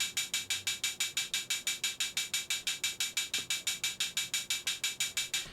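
Synthesized metallic hi-hat from an electro drum loop, playing a steady run of sixteenth-note hits with an amplitude-modulated shimmer. Each hit has a sharp attack and a short decay, and the pattern repeats evenly throughout with no other sounds.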